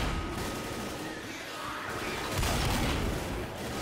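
Gunfire and a gasoline tank exploding in the video game Left 4 Dead: dense rattling shots over a rumbling blast, with a louder surge of booming fire partway through, no speech.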